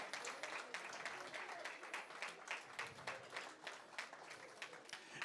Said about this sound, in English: Can we have a round of applause for the student assistants and the MBA fellows?